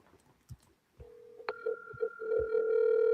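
Telephone dialing during a run of seller calls: a short clatter, then a steady dial tone with a brief rising burst of keypad tones over it, alone with no talk.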